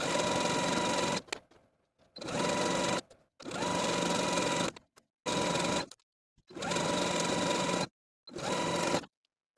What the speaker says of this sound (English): I find that a triple zigzag stitch gives me the best stretchability for the elastic.